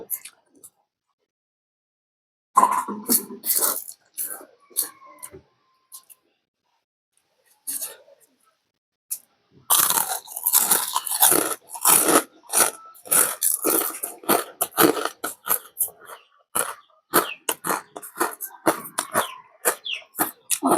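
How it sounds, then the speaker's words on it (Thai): Someone chews crispy pork crackling close to the mic, with dense crunchy bites and smacking after a quiet opening, bursts growing busier and louder in the second half, with a few brief vocal sounds between bites. "เคี้ยวปับปับ"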